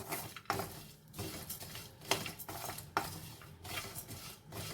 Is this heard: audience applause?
no